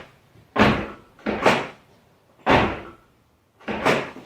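Car door handle and latch on a Toyota 4Runner being worked after a hinge pin repair, producing four separate loud, close clunks spaced about a second apart with quiet gaps between them.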